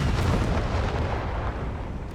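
A single heavy tank gun blast in Company of Heroes 3, a deep booming shot with a long rumbling decay that fades over about two seconds.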